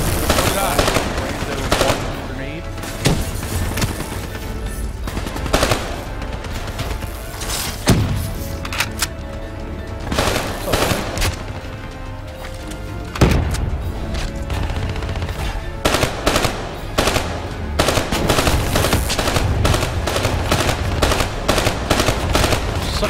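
Dense machine gun fire from Call of Duty Black Ops 3 gameplay, loud continuous bursts with heavy thuds, almost unbroken across the stretch.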